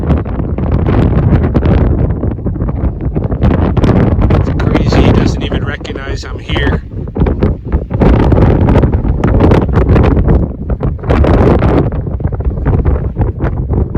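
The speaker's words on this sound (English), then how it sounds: "Super windy." Strong wind buffets the microphone with a constant low roar, while a person talks close by over the gusts.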